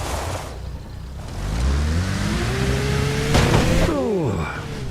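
Car engine with a worn-out, broken gearbox revving up and down, pitch climbing then dropping off sharply, loud and close with some background noise.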